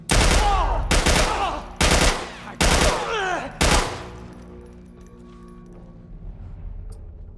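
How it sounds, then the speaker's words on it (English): Gunfire in The Last of Us video game: five loud, sharp bursts of shots in quick succession over about four seconds, each with a short ringing tail, then fading into a quiet low rumble. "Gunshots!"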